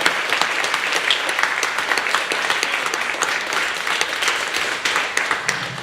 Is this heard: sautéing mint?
no